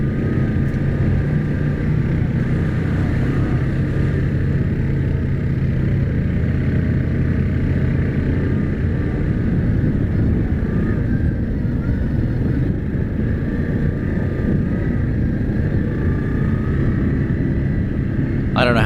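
An ATV riding along gives a constant loud engine drone, with a thin, steady drive-belt whine running over it throughout.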